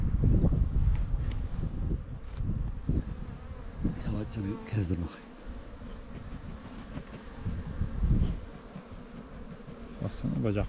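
A bee with pollen on its legs buzzes near the microphone outdoors in a mountain pasture, its drone rising and falling as it moves, with wind noise and low voices in the background.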